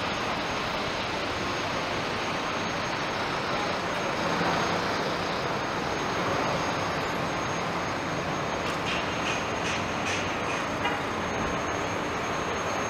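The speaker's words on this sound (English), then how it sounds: "There's that streetcar." A Toronto streetcar passes along a downtown street near Bond Street, its steady rumble spread under broad city traffic noise, with faint high squeals or rings near the end.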